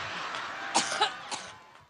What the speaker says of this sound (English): The coughing fit came in Cleveland last week